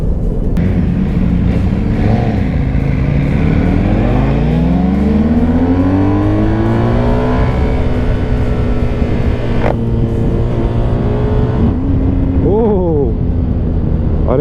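A 2021 BMW R 1250 GS motorcycle with a quickshifter, its engine loud and close as it rises through the gears with pitch climbing between shifts, under a rider's voice.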